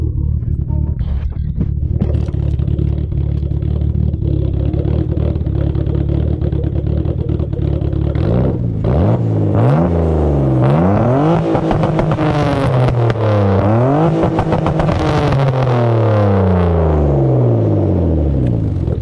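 BMW E36 325i bi-turbo engine with its exhaust left unsilenced, first rumbling steadily at idle, then revved hard several times with loud rising and falling sweeps, close and continuous throughout.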